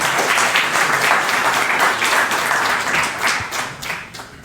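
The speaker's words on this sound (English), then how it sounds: "So another round of applause to the presenters." Conference audience applauding presenters at an enterprise-level SDMX implementation session, a dense, continuous wash of clapping from a sizable room, steady and fairly loud for the whole stretch.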